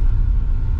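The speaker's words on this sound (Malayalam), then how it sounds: "ഇവിടെ ഒരുപാട് വണ്ടികൾ പോകുന്നുണ്ട്." On a busy road toward Srinagar in Jammu, a passing vehicle makes a brief, loud, close low rumble of engine and tyre noise.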